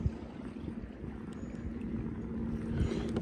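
Kayak paddling on open water on the way to Dreher Island, with a steady low wash of water and soft strokes running under the whole passage, fairly quiet and even.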